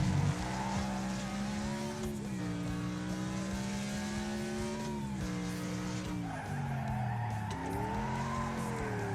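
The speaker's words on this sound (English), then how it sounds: "that was actually pretty good on the power sliding skill there" A car power sliding in the Wreckfest video game on PS5, with tire squeal and skidding over a droning engine note that rises and falls through gear changes, loud and continuous with no talk.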